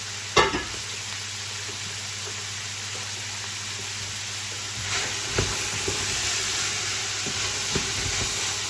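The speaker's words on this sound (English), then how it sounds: "So basically we just want to sweat all these down." Diced garlic, onions, rosemary, peppers, celery and carrots sweat in a pan for Bolognese, giving a steady close sizzle with an initial clatter and a few scraping stirs later on.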